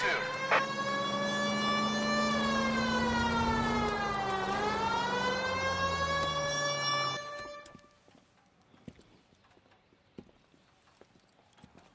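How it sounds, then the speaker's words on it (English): A loud wailing emergency vehicle siren in the video game LA Noire sweeps up and down for several seconds, then cuts off, leaving faint scattered clicks and background noise. "move when you hear a siren"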